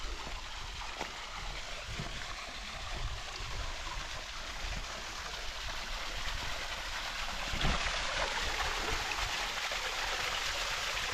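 Rupshi waterfall in Sitakunda pours steadily in the dry season, a broad continuous rushing wash of water that stays even and fairly faint throughout with no voices.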